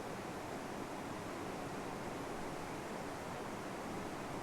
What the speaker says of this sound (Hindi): आपको हर मुरली में नदी की आवाज़ सुनाई देती होगी।